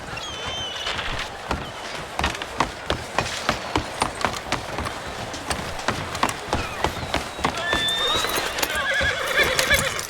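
In Red Dead Redemption 2, a horse clip-clops in a steady, even rhythm of hoofbeats and lets out whinnies near the start and again toward the end, all close and fairly loud.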